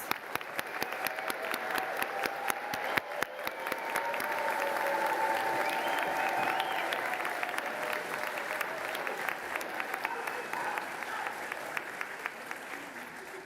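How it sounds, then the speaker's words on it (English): Sustained applause from a large crowd at a graduation ceremony for physician assistant and physical therapy graduates, steady and full throughout with sharp individual claps standing out, continuing without pause. "Another great round of applause to the graduates."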